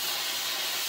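Steam hissing from a pressure cooker releasing pressure while making chicken bacon ranch pasta, a short, steady, loud broadband hiss heard alone.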